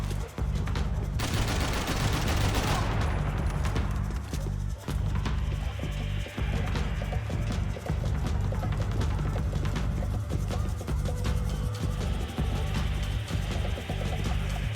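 Enemy gunfire in Max Payne 3 on a harder difficulty, a near-continuous barrage of overlapping shots with sharp cracks and bursts running throughout over a low rumbling game soundtrack.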